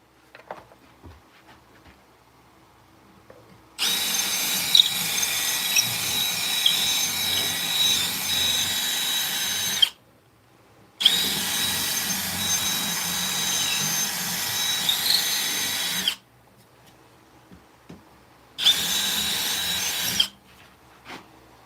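A power drill whirs in a handmade-crafts workshop during a live stream. It runs in three long, steady bursts of roughly six, five and two seconds, loud and close, with quiet gaps between them and no talking.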